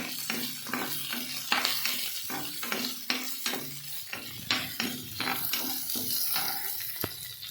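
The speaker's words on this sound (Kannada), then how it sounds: "ಮತ್ತು ಮೆಣಸಿನ್ಕಾಯಿ, ಹೆಚ್ಚಿರುವಂಥ ಮೆಣಸಿನ್ಕಾಯಿನ ಹಾಕೀನಿ." Chopped green chilies sizzle in hot oil in a pan for jeera rice, a steady close frying hiss broken by repeated scraping strokes of a spoon stirring against the metal.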